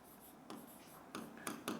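Pen scratching across paper during a Hindi-medium class 11 chemistry lesson on ionic bonding, a soft steady scrawl broken by several short, firmer strokes, close and quiet with no talk.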